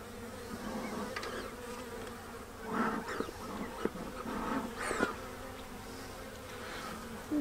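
Guard honeybees at a hive buzz in a dense, continuous drone, close by, with individual bees whizzing past louder now and then.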